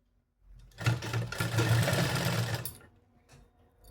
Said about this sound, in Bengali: সেই সেলাইয়ের উপর দিয়ে এই পট্টিটা বসিয়ে নেব